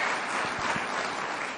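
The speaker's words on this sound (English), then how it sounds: "Standing ovation." A business audience in Chicago gives a standing ovation to President Trump, a brief burst of dense, loud applause from a large crowd.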